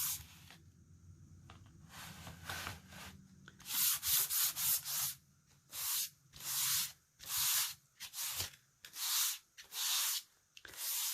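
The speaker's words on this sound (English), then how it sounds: "Now I'm going to start to rub that out." A sponge rubs repeatedly across wet paint on a turquoise faux wood finish, making loud close scrubbing strokes in an uneven rhythm, with a quieter smearing stretch first and then about nine distinct bursts.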